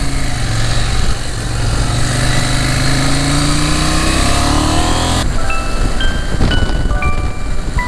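A motorcycle engine pulling in second gear up a hill, loud and close with a constant drone that climbs in pitch, then a shift partway through brings a higher, whining tone.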